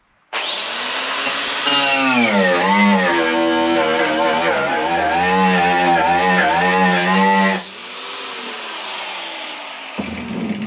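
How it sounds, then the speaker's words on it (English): A heavy wire wheel on a power tool grinds filler off a metal body panel, a loud close whine that rises and wavers under load for about seven seconds, then drops to a lower spin-down. "So we're going to start with a heavy wire wheel"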